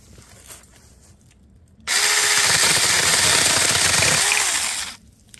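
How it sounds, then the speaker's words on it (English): Saker mini electric chainsaw cutting through a fresh green tree branch outdoors: a loud, steady high-pitched motor whine with a grinding cut, running about three seconds before stopping, no talking. "So we're going to go ahead and try and cut this branch here."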